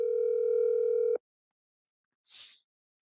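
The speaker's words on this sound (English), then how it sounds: "Answer the phone, Jose." A telephone tone sounds as a steady electronic hum for just over a second, then cuts off, followed by a brief faint hiss after a pause, with no talk.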